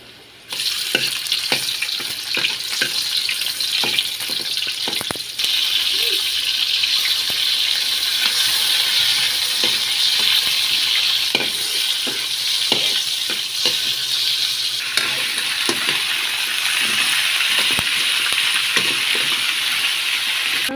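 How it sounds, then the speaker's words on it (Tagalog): Loud continuous sizzling of vegetables sautéing in a pan with garlic, onion and tomato, with occasional stirring clatter throughout. "Nagigisa po tayo ng gulay."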